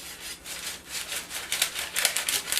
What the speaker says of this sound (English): turn your cake around, and then just cut it again